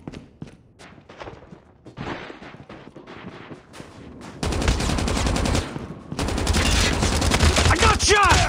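Dense gunfire from the video game Call of Duty: sparse shots and footsteps at first, then loud sustained bursts of automatic weapons fire, a continuous fusillade filling the second half.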